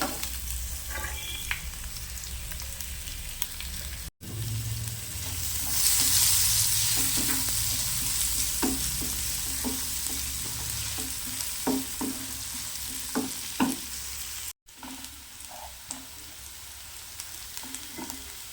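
Onions sizzling and frying in a pan as the base for a Kerala-style prawn roast, a steady close crackle with scattered pops and occasional stirring scrapes, no talking.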